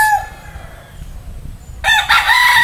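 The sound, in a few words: Boston roundhead stag (young rooster) crowing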